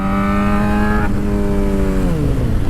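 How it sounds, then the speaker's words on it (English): A loud 2007 motorcycle engine hums at a steady pitch, then drops as the revs fall away with the clutch pulled in, no voices present. "Pulling the clutch so I didn't have to scare the dog."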